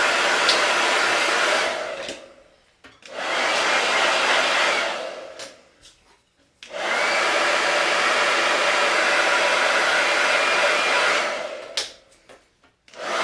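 A hair dryer blows on a Chalk Couture chalk transfer in three long, loud, steady bursts of airy rushing, each one switched off briefly before the next starts up again.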